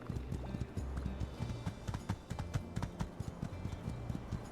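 Horse hooves clip-clop at a walk in My Time at Sandrock, a steady, fairly quick rhythm of soft hoofbeats over a faint background, no talk.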